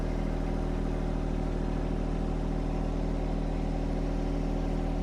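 A John Deere 1025R compact tractor with a hydrostatic transmission and a 260B backhoe backs up, its engine giving a loud, steady, close chugging drone throughout, with no voices.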